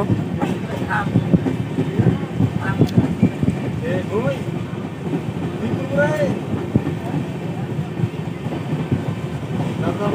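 A train passes through Jajpur station in Odisha, its steady rumbling and wheel clatter running continuously, with people talking over it.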